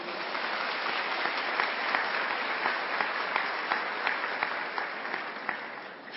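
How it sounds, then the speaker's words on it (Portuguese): A church congregation applauds during a sermon, a broad, even wash of many hands clapping continuously for about six seconds, steady and moderately distant. "Pode aplaudir quem está me ouvindo."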